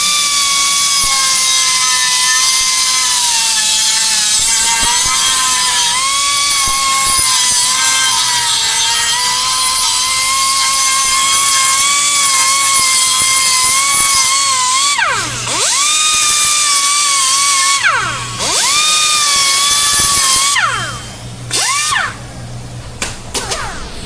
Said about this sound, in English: we're gonna hit it with a little carbide bit right here